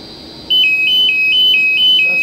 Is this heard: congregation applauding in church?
no